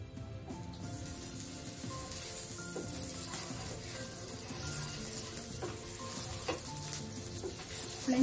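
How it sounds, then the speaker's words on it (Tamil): Burger bun toasting in butter in a pan, a steady close sizzle and crackle running continuously throughout, with faint clinks of utensils. "இப்போ நம்ம வந்து பட்டரில் டோஸ்ட் பண்ணிடலாம்."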